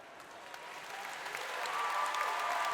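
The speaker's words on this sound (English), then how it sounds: "the crowd goes wild" Audience applause at a college family weekend convocation, a dense crowd clapping that swells steadily louder across the moment, with no talk over it.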